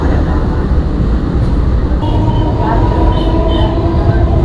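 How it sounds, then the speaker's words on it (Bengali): A train pulls into Dum Dum station with a loud, steady rumble of rolling wagons, joined by faint metallic squeals and tones partway through, amid platform ambience. "এবার শুধু ট্রেন আসার অপেক্ষা।"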